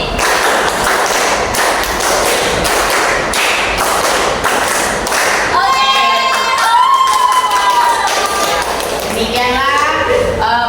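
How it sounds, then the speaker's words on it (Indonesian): Students in a classroom clapping a five-beat pattern, loud sharp group claps in a regular rhythm for about five seconds, followed by children's excited voices, chatter and squeals. "tepuk 5 3 kali"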